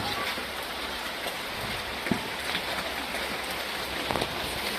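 Steady rain pours down around a home with a wood-fired clay stove, a dense continuous hiss of drops on surfaces with a few louder splashes, close and unbroken throughout.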